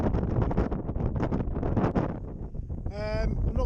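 Strong wind buffets the microphone outdoors on a freezing day during a bike ride, a steady loud roar with gusty swells throughout.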